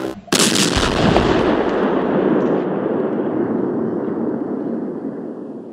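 Explosion sound effect set in a wood shop: one sudden loud blast followed by a long rumbling roar that slowly fades away, with no voices.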